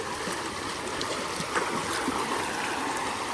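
Continuous rushing water of a village river in spate, flowing steadily, a broad even wash of sound with no voices.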